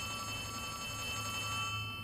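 A telephone rings in Poppy Playtime Chapter 3, a steady, faint electronic bell tone held continuously for a couple of seconds with no voices over it.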